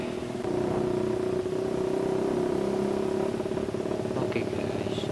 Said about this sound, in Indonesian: sudah malam kayak gini baru motor saya knalpotnya berisik